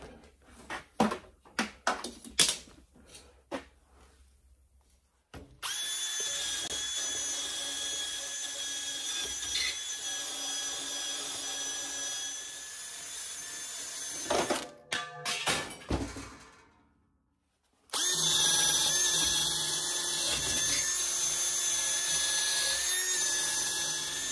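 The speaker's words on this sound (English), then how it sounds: "Now clean them up with the wire brush and we'll repaint them." Power wire brush cleaning fresh welds on the rear truss bar of a 1972 VW Super Beetle: a few knocks and clunks, then two long loud whining grinding runs separated by a brief pause, close up with no talk.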